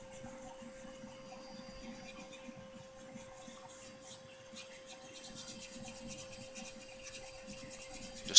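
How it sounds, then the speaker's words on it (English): Laburnum wood bowl spinning on a lathe while being hand sanded: a soft, continuous rhythmic rubbing and scratching with a faint steady motor hum, ending in a brief louder knock. "A little bit of hand sanding."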